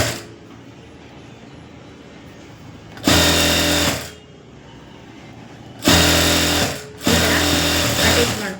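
An electric sewing machine stitches lining for a puff sleeve: three loud, close whirring runs of rapid needle clatter, separated by quieter pauses.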